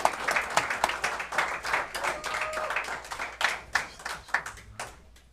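Audience applause for police officers at a village meeting, a small room of hands clapping in an uneven patter that peaks and slowly dies away over several seconds.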